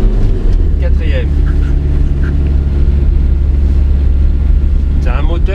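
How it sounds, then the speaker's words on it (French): A 1999 Renault Trafic van's engine rumbles loudly and steadily from inside the cabin while driving, a deep continuous drone with faint voices under it. "C'est un moteur qui gronde."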